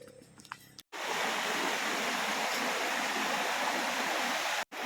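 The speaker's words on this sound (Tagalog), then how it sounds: "nandito na kami sa falls" A waterfall in the mountains rushes in a steady, broad wash of water noise that fills the clip after a brief quieter opening, loud and continuous with a short cut near the end.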